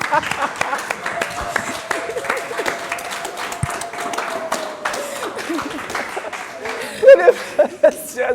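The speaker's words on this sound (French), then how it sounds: "J'aimerais qu'on se lève et qu'on applaudisse." A live audience at a school book club's Christian musical applauds while standing, a steady wash of clapping with scattered laughter and a voice speaking over it, swelling louder near the end.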